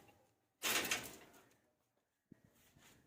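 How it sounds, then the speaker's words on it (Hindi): Someone struggles with a stuck roof door of an old house, giving one sharp burst of rattling and scraping, then quiet, then a few faint knocks. "छत का दरवाज़ा तो मेरे से नहीं खुला।"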